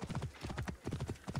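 Horse hooves clop in a quick, steady galloping rhythm, close and clear, a series of hollow thuds, in the video game Assassin's Creed Origins.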